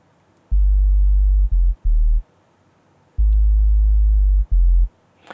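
Deep analog subsonic sub bass synth in Logic Pro plays a line of sustained low notes in short and long held pulses separated by gaps, clean and alone.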